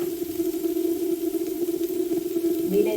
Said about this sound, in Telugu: ఇప్పుడు చిగురుని వేసుకుందాం.